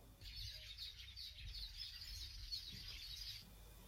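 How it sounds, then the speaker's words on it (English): Birds chirp in a quiet, deserted village in Mamo near Kumba, a faint continuous twittering of small birds over a low rumble of background noise, with no voices. "we were welcomed by silence and greeted by bird"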